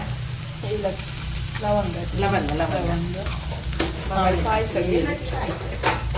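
Cloves and spices frying in a pan with steady sizzling and occasional stirring, a voice talking over the cooking throughout.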